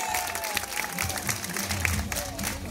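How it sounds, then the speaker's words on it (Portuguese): Applause from a crowd at a school awards ceremony in Brazil, steady clapping throughout with voices and chatter mixed in, a musical tone or feedback hum running underneath. "salva de palmas"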